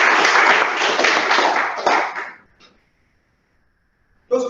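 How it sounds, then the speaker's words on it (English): Audience at a Toastmasters club meeting gives a loud burst of applause for about two seconds that fades out, then a brief fresh clap starts at the very end. "Let's have a huge round of applause."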